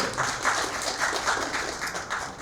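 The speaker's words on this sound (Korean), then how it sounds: "박수 한번 부탁드려요" An audience at an economics lecture on the 2022 outlook claps together, a fairly loud, steady wash of many hands without speech.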